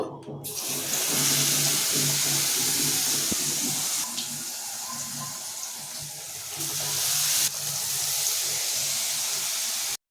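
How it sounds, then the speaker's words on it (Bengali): Batter-dipped pumpkin pieces deep-fry in hot oil with a loud, steady hiss and crackle, broken by a couple of brief dips as pieces are added. "এবার এই গরম তেলের মধ্যে আমরা এক একটা বৈতালের টুকরোকে বেসনের চুবি চুবিয়ে ভেজে নেব"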